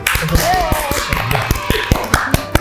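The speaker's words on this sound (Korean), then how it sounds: "박수!" Scattered, fairly close hand claps and taps for the opening of an online counseling show, irregular and sparse rather than a full crowd, with a voice speaking over them.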